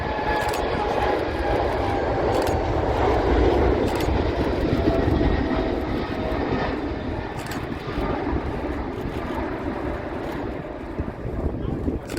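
A jet airliner engine howls steadily on the runway at Manchester Airport, with a broad roar and a high whining tone, loud and continuous throughout.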